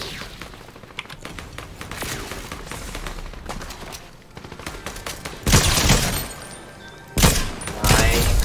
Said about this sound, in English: I hear so much gunfire